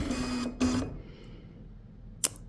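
An embroidery machine with an embroidery module starts to stitch: two short whirring motor bursts in close succession, then quiet, then a single sharp click, close by with no talking.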